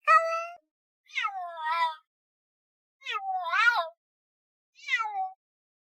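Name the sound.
cat meowing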